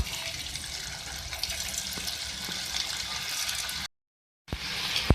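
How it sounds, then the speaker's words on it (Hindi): Marinated okra (bhindi) frying in hot oil gives a steady, dense hiss for several seconds. It stops briefly, then resumes as a close, loud sizzle. "तो ये आप देख सकते हैं ये फ्राई हो रहे हैं।"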